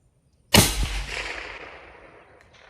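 A single 300 PRC rifle shot fires at a long-range golf-ball target outdoors: one sharp, loud crack that rolls into a long, fading echo, with no talk.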